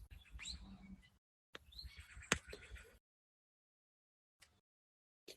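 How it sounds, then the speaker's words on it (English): Birds chirp and tweet outdoors in the background, with several short calls in the first three seconds, one sharp louder note, then brief faint chirps after a quiet gap; no one speaks. "As you can hear the birds in the background"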